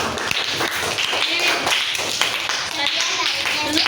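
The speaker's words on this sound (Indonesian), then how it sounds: "Tepuk tangan dulu teman-teman." Fourth-grade children in a classroom clap their hands during an earth-layers lesson, a quick ragged burst of many small claps carrying on steadily, with voices speaking among them.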